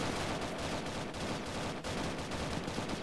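Dense, continuous gunfire from the Roblox game Zeppelin Wars, rapid overlapping shots forming a harsh, steady barrage with no talking.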